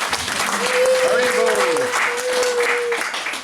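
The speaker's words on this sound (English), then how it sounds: "Another round of applause" Audience claps at a Sunday festival gathering at a Hare Krishna valley farm, a loose patter of hands beneath a sustained tonal hum and overlapping voices that carry through most of the clip.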